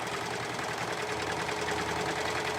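Steady, close whirring of a sewing machine stitching four raw edges of fabric together to form a folded cuff, running continuously without pause and with no voices.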